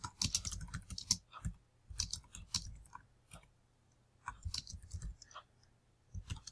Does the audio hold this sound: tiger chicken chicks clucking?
no